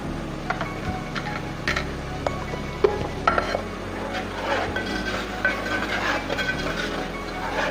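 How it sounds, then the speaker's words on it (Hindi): Masala for chicken seekh kabab curry fries in oil, with steady sizzling and frequent clinks and scrapes of a stirring spoon against the pan, close by and without talk. "अब इसको अच्छी तरह से भून लेंगे।"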